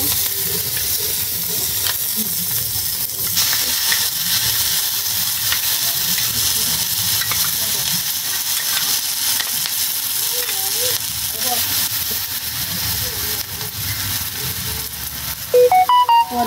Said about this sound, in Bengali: এই গিলুটা এভাবে নাড়িয়ে ছাড়িয়ে ভাজতে হয়, নাহলে পুড়িয়ে যায়